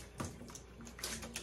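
Fiddlehead ferns soaking in a bowl of fresh cold water in a home kitchen, giving soft splashing and swishing water with small drips, close and fairly quiet.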